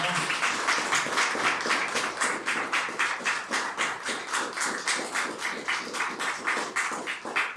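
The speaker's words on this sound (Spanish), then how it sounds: "Demos un aplauso al Señor" A church congregation claps together in a steady, even rhythm, regular beats repeating at a moderate level for several seconds, with a faint murmur of voices underneath.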